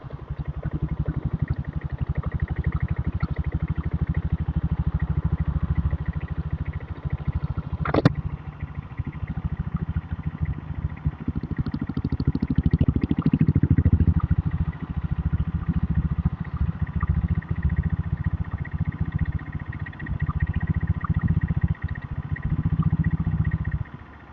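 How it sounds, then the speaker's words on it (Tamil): A diesel Royal Enfield Bullet motorcycle rides through a cold forest area at night, its steady engine drone continuous and fairly loud throughout, with wind rush and a brief sharp click partway through. "நம்ம டீசல் புல்லட்டில் தான் வந்து போயிட்டுருக்கோம்."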